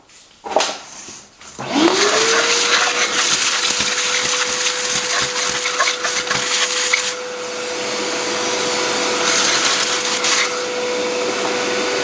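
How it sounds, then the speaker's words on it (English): Vacuum cleaner switches on after a few knocks and runs with a steady whine and rushing airflow in a garage during a Subaru BRZ build, alone and fairly close. "I need the vacuum, honestly."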